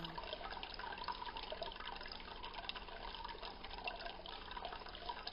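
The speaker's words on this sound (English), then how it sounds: "it has water coming out of it, and it's this beautiful water sound." Continuous gentle trickle and splash of falling water, steady and close, with no voices.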